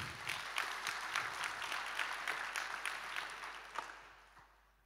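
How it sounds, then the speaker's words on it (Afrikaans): An audience at a church gathering claps warmly for Dr. Isak Burger as he is introduced, a crisp burst of many hands that holds steady, then tapers off into quiet. "En sê kom ons gee my lekker hande klap"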